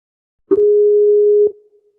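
A Skype call disconnect tone sounds as a single steady electronic beep lasting about a second, loud and clean against silence, with short clicks at its start and end.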